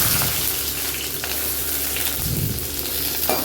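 Onions sizzle and fry steadily in hot oil in a pan along with cinnamon stick, cloves, cardamom, green chilli and curry leaves for a potato kurma, a close, continuous crackling hiss with no talking.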